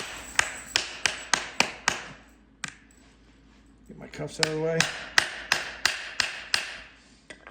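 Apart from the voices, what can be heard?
tapping stud inserts in with round side of hammer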